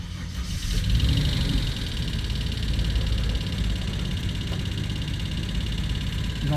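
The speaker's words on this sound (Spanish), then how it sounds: "Es un sonido de golpeteo, un sonido intenso" A Ford van's engine runs just after starting, with a knocking fault sounding as a steady low rumble with faint rapid ticking, fairly loud and close.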